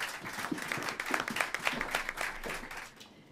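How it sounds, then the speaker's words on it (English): An audience at a comedy show applauding as the first act is introduced, lively uneven clapping with some louder individual claps, fading out at the very end. "Give me some applause."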